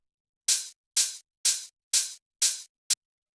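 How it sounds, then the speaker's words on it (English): Six bright, sizzling hi-hat hits, two layered tech house samples, play alone at an even pace, each a short hiss of noise. The last hit is cut short. "the last layer of percussion we have here is the hi-hat"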